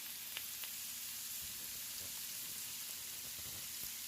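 Garlic and spices sizzling in a pan, a faint steady frying hiss with a few soft taps and stirring sounds, quiet and continuous.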